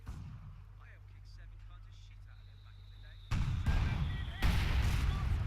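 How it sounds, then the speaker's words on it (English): Artillery shells bursting among advancing British troops in the Battle for Caen war game, opening with low rumbling, then two sudden heavy booms in quick succession at close range. "More shells hitting the advancing Brits"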